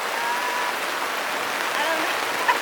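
Steady broadband hiss of rain falling around a sailboat, continuous and fairly loud throughout with no clear individual drops standing out.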